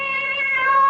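Cat outside in a 1974 radio mystery play giving one sustained, steady meow, clear and moderately close, heard alone without voices.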